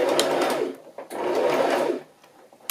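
A sewing machine runs steadily in two bursts, stitching a straight line through fabric, its close, whirring motor pausing briefly between runs and then stopping, with no one talking.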